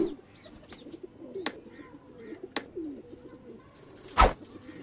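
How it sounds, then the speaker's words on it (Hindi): Home-bred pigeons of a show bloodline coo in soft, low, repeated phrases close by, with a few sharp clicks and a brief wing flutter near the end; no talk over them. "आँख का शौक़ करें इस कबूतर, ओरिजिनल स्कूल वाले कबूतर मियाँ नज़ीर साहब"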